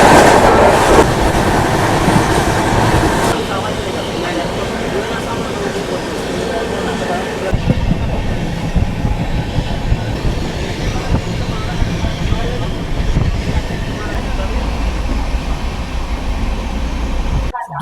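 The Jammu Tawi Express train runs into Gomoh station (Netaji Subhas Chandra Bose Junction), a loud continuous rumble with wheel clatter and rushing noise heard close from on board, easing near the end.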